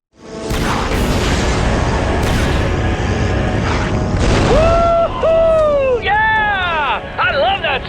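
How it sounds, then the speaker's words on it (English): Explosion in the Star Wars Republic Commando video game, a dense broadband rumbling blast that fills the clip, followed by radio-style voice chatter and sweeping electronic tones over the continuing noise. "my scanners show an explosion"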